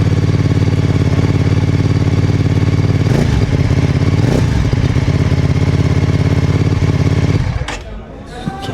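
A Benda Chinchilla 500 motorcycle engine idles loudly and steadily close by, with a couple of brief revs, then cuts out near the end.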